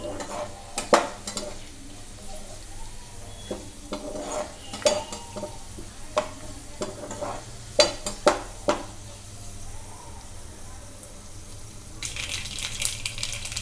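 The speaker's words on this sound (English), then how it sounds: "The mustard seeds are spluttering and the aroma of the fenugreek leaves is also coming out" Mustard seeds crackle and splutter in hot oil on a medium flame with fenugreek leaves, irregular sharp pops and clinks of stirring over a steady low sizzle, close and moderately loud.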